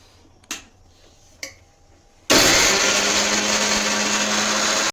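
A couple of faint taps, then a kitchen blender bursts on loud and close, whirring steadily as it crushes garlic, ginger and half a green chili for khaman dhokla, running unbroken for over two seconds before cutting off.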